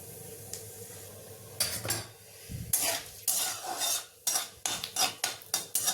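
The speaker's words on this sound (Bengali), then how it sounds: "এবার দিয়ে দেব সামান্য একটু পাঁচ ফোড়ন" Panch phoron five-spice is tempered in hot oil for a coconut-milk shukto. The sizzle comes up sharply, then brisk stirring follows with repeated scrapes and clinks of a spoon against the pan, close by.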